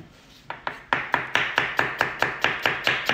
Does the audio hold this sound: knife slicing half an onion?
yes